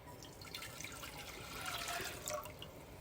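Two cups of water pour steadily into a pot, a continuous splashing trickle that grows slightly fuller toward the end, close and fairly quiet.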